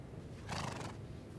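A horse gives a short, faint whinny over a steady background hiss, a single shaky neigh lasting under a second.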